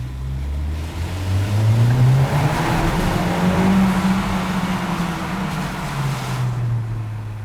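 A Honda Civic Type R with a new exhaust driving through a tunnel with the window down, its engine note rising and holding as a strong resonant drone with booming echo, loud and close before easing off near the end.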